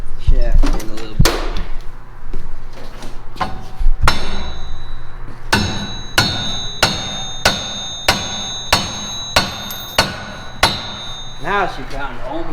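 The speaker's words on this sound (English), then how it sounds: "I need to hammer the shaft in a little bit." A shaft is driven into a ceiling with a steady series of sharp, ringing hammer blows about every second, preceded by louder bangs and scraping, with a person talking in the background.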